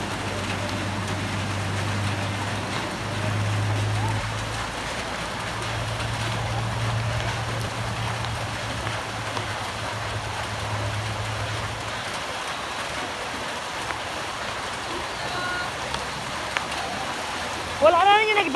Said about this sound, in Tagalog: Lakas ng baha, oh.